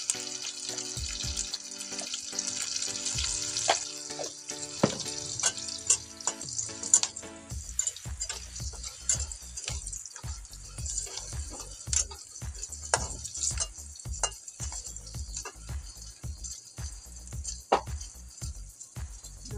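Chicken fries in a pan as turmeric goes in, a close crackling sizzle with running-water-like hiss early on, then sharp irregular spatula knocks and scrapes through the rest; no talking.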